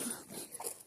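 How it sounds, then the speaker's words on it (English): Dog whimpering faintly indoors, a brief high whine with a couple of soft yips over less than a second. "But that's a dog."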